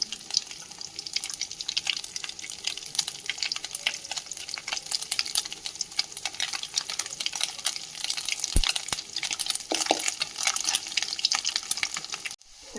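Grated coconut fries in oil, bitter gourd mezhukkupuratti on the way, giving a steady dense crackling sizzle with continual stirring and scraping, close and even throughout, ending in a brief clunk, no speech.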